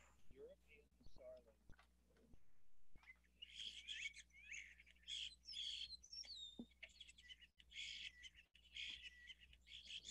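A flock of starlings calls with overlapping chirps, whistles and clicks, fairly faint and layered over a soft background hum.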